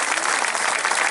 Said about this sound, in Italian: facciamo un applauso a Luca, a Franco, a tutti quanti